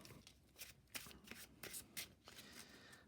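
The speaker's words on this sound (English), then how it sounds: "we'll go ahead and shuffle the encounter deck" A deck of Marvel Champions cards is shuffled by hand, quiet close riffles and soft slaps in several quick bursts.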